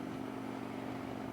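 A camper truck with a stock engine climbs a hill on Interstate 17 toward Flagstaff, giving a steady, faint, low drone throughout with no talking.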